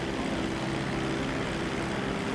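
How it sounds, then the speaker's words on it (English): A plane flying in GTA 5 Online, a steady, loud engine drone with a constant hum and no change in pitch, heard alone. "I'm like in the middle of flying a plane."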